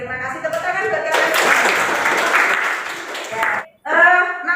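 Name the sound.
applause for the students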